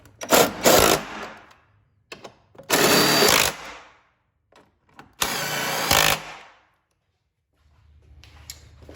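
Bursts of a power tool, likely an impact wrench, driving in the two bolts and the nut of an engine mount with a 13 mm socket on a Fiat 500 Abarth. There are three loud, buzzing runs of about a second each, separated by brief pauses, close to the work.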